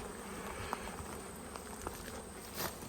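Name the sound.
Italian honeybees buzzing around an opened hive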